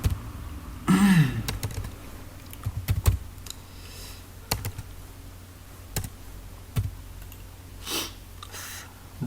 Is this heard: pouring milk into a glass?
no